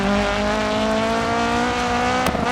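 A rally car in the Dirt 4 racing game accelerates through the gears, its engine droning in a steady rising tone up close, with a brief clatter near the end.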